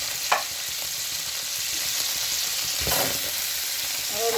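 Raw desi chicken pieces drop into hot ghee and hiss into a steady, fairly loud sizzle, with a few clinks and stirring bumps and no talking.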